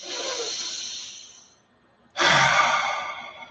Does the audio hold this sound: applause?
no